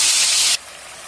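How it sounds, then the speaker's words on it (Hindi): Fennel and coriander seeds hit hot oil with a loud, hissing sizzle that cuts sharply halfway through to a softer, steady frying hiss, close and with no talk. "अब हम इसमें डाल देंगे सौंफ और धनिया।"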